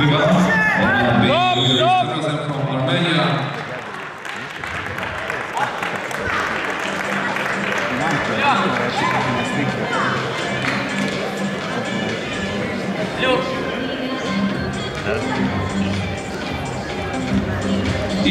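Arena crowd applauding a Polish wrestler after a freestyle 86 kg bout, steady clapping and cheering that swells and continues, while an announcer speaks loudly over it at the start.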